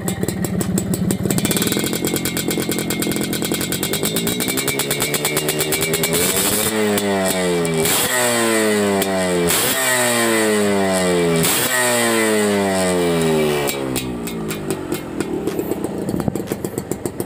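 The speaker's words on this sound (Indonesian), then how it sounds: "suara mesinnya itu sangat halus teman-teman, dan bahkan nggak ada suara ngelotok sedikit pun" An old motorcycle engine with a standard exhaust close by, idling with a rapid putter, then revved up and down several times in rising and falling sweeps before settling back.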